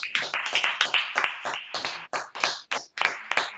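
Irregular bursts of hand claps from a church congregation in a French-language service, several close, loud clusters with brief pauses between them, no clear speech.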